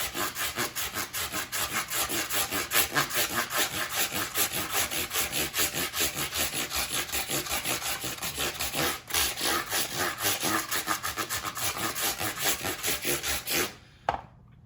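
Fine sandpaper rubs briskly along electric guitar frets, smoothing out file scratches in a fast, even back-and-forth rhythm, loud and close, stopping abruptly near the end.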